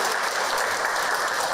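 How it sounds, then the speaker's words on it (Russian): Audience applause at a Chechen Republic broadcast event, a steady, dense wash of many hands clapping together, moderately loud and continuous, with no voices over it. "Аплодисменты, товарищи."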